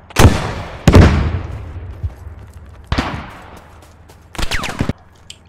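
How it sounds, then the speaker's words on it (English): Tank cannon shots in a video game come as sharp, loud booming blasts with decaying tails, a few spaced reports plus a quick double burst near the end. "that's the tank shooting me"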